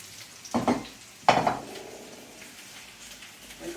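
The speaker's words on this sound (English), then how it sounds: "Now it's time to add to the eggplant the cubed zucchini." Cubed zucchini tumbles into a pan of frying eggplant in a summer Umbrian kitchen: two close clattering drops, the second louder, followed by a low steady sizzle.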